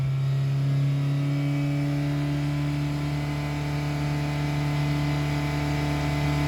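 A Toyota Highlander engine with a long-crank fuel problem runs steadily at high revs around 4,000 RPM, a loud, constant droning hum with strong tonal bands and no pauses.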